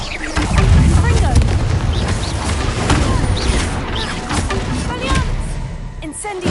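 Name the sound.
spell explosions from Hogwarts Legacy video game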